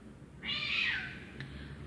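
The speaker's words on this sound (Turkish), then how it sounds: "Dışarıda kediler bağırıyor o esnada." Cats outdoors give a single rising-and-falling meow, moderately faint and somewhat distant, over a low steady background hum with no talking.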